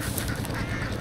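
Ducks at a rural countryside farm quack busily in a dense, overlapping chorus, loud and close, with no talking.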